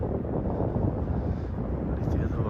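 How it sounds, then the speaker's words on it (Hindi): Strong wind roars steadily on a mountain road in February winter, a dense, constant rush with no gaps, loud and close to the microphone throughout. "बड़ी तेज़ हवा चल रही है।"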